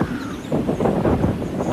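Strong wind gusting outdoors beside a trout water, a steady broadband roar with rising and falling buffets, close and loud against the microphone.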